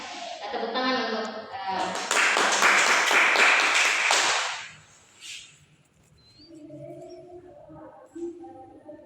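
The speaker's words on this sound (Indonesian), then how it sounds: "teman-teman yang lain tepuk tangan untuk" A classroom of students bursts into a few seconds of brisk hand clapping that rises quickly and fades out, with a teacher's voice speaking before and after it.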